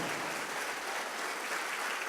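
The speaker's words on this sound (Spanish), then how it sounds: "dale un aplauso grande al Señor" A church congregation gives a sustained round of applause, a dense and steady wash of clapping heard from a moderate distance.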